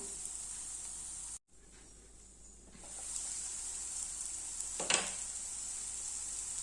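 Ingredients sauté in a pan with a steady hiss and sizzle that drops out for a moment, then returns a little louder. A single utensil clatter comes partway through.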